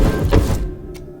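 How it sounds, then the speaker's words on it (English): A door-closing sound effect with an added whoosh: a loud, close swishing thump that fades over half a second, followed by a brief faint tap in near silence. "add this closing door effect, and then this whoosh sound to even add more emphasis on the door"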